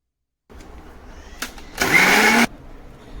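An electric mixer grinder blends raw onion, ginger, garlic and cumin into a paste, letting out a short, loud whirring burst of about half a second after a brief click, with quieter room noise around it.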